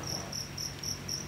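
Crickets at a cricket farm chirp in a steady, evenly spaced series of bright, high-pitched pulses, about five bursts in quick succession over a low background hum, with no voices.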